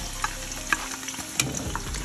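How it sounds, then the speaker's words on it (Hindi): Sliced onions fry in about a quarter cup of hot oil in a pressure cooker, a soft continuous sizzle broken by a few sharp stirring clinks and scrapes, close and moderate in level. "अब ये जो प्याज है इसको सबसे पहले हम इसमें शामिल करेंगे"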